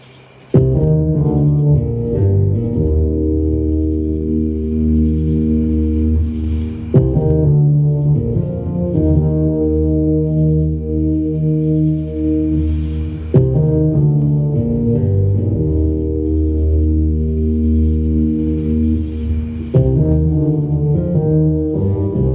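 A sampled bass doubled by a detuned bass an octave apart, playing a loud, sustained, droning line in repeating phrases with slight echo, no talk.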